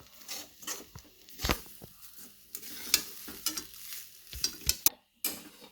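Fresh grated coconut being roasted and stirred in a pan, close scraping and stirring strokes in an irregular rhythm with faint sizzling between them, each stroke a short gritty rasp.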